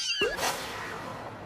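A stray cat gives a single close, fairly loud meow that rises and falls over about a third of a second, followed by quiet room tone.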